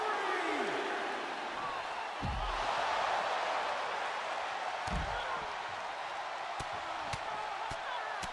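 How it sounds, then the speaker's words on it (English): A wrestling arena crowd roars and cheers steadily throughout during a brawl, with occasional impacts and thuds from the ring rising out of the continuous crowd noise. "look at her pounding on Candice, and the crowd love that."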